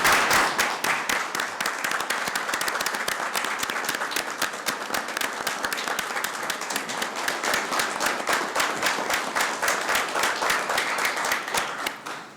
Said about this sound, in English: I ask my colleagues to stand in applauding the great job you guys are doing